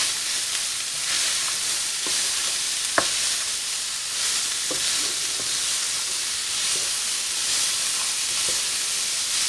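Seasoning mixed into samosa filling as it fries, a continuous close sizzle with scattered soft scrapes and taps of a spoon against the pan.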